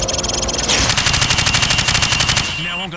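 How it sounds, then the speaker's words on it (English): Rapid automatic rifle fire from the hip at targets in Call of Duty 4, a loud, fast, evenly spaced burst of shots lasting a couple of seconds, followed by a short mechanical rattle as the firing stops. "Now, shoot at the targets while firing from the hip."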